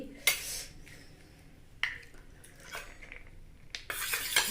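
Cracked egg being beaten in a bowl, a few sharp clinks of a utensil against the bowl with faint scraping between them, close and quiet.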